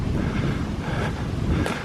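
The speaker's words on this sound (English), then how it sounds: "Well, it's windy on this side, isn't it?" Wind buffets an outdoor microphone, a continuous loud rumbling roar with gusty swells and no voices.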